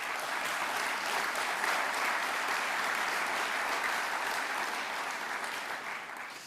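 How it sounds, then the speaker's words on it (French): An audience at an address by French Economy Minister Bruno Le Maire applauds in a dense, sustained wave of many clapping hands that holds steady and begins to fade toward the end. "vous pouvez l'applaudir"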